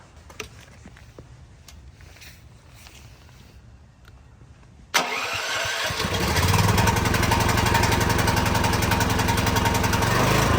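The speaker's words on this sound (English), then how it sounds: "only after this, you can start the generator" A portable generator engine starting: a quiet lead-in, then a sudden crank as the engine catches and settles into a loud, steady running drone.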